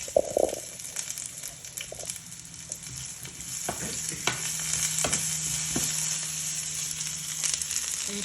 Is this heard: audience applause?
no